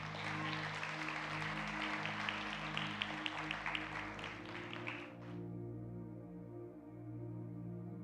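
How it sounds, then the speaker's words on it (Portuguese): A celebration-night audience applauds a group of boys, dense clapping that stops abruptly near the end, leaving a sustained musical tone underneath. "Palmas para eles."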